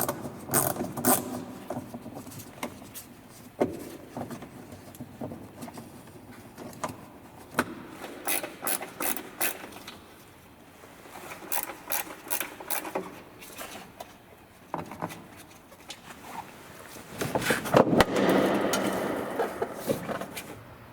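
A ratchet works loose plastic nuts on a Volvo XC fender liner, giving faint, intermittent bursts of quick clicking with pauses between them and a slightly louder run near the end.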